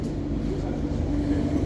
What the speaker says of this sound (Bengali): এখান থেকে একটা মেট্রো ট্রেন যাইমু